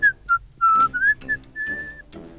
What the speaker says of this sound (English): I hear a zookeeper whistling in my ear.